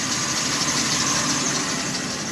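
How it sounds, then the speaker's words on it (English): A truck engine idles with its exhaust rumbling, a steady, even, low drone running unchanged and fairly quiet from start to finish. "then just take note of what the exhaust sounds like right now."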